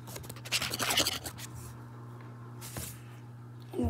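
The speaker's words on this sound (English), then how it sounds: "sandpaper." Sandpaper rubbing on wood while making a wooden skeleton, a close, soft scratchy rasp in short strokes, strongest early, then quieter with a faint scrape near the end.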